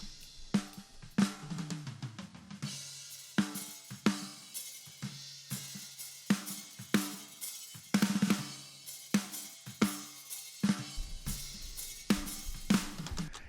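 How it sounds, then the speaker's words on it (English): A snare drum plays a steady pattern of crisp hits, each one layered with an extra sampled punch that makes it sound fuller. "But let's listen to what happens when we blend in a sample."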